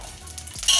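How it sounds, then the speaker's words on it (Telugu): Green chilies frying in oil, a steady close sizzle with a brighter hiss swelling near the end. "ఇప్పుడు పచ్చిమిరపకాయలు వేయించుకుంటున్నాను"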